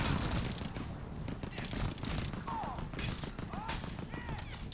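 Gunfire from the video game Crysis 2 crackles in broken bursts through a dense, noisy battle mix, with voices and other effects layered over it.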